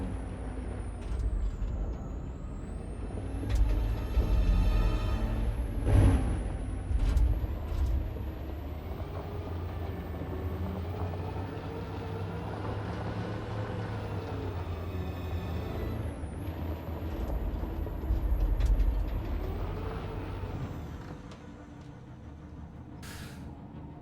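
A truck in Detroit: Become Human rumbles along with a low, drifting engine drone that rises and falls, broken by sharp hissing air-brake bursts and shifting whines before it fades near the end, with no voices.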